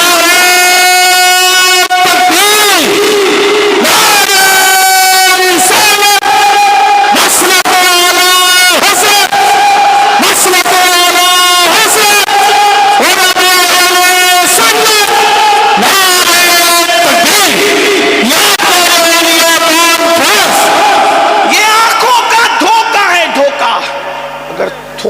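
A large crowd at a religious speech chants slogans in loud call-and-response waves, a lead voice shouting each line and the massed voices answering in rhythmic bursts that repeat for the whole stretch.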